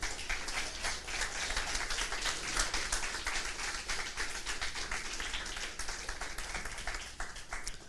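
Church congregation applauding during a Portuguese-language sermon, a steady, dense wash of many hands clapping at a distance, sustained evenly throughout with no voices standing out.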